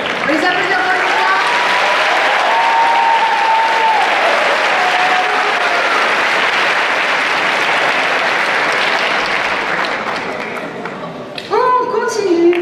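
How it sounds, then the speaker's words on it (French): An audience at a cosplay contest applauds in a steady, loud roar of clapping that lasts most of the time before tapering off, and a voice speaks briefly at the end. "On les applaudit encore une fois."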